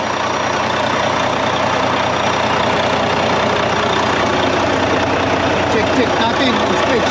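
A truck's engine idles steadily up close, a dense continuous low rumble with a fast even throb that holds at constant loudness for the whole stretch, with no talk over it.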